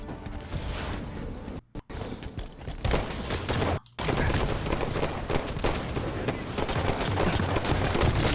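Dense, sustained gunfire in the shooter Halo 5: Guardians, rapid automatic bursts crackling loud and close, broken by two brief silent gaps before the firing resumes.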